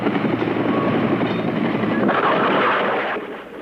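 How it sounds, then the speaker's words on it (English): Helicopters lifting off from the U.S. Embassy: a loud, steady rotor and engine roar that holds throughout and tails off slightly at the end. "Most camera crews departed in the helicopters lifting off from the U.S. Embassy"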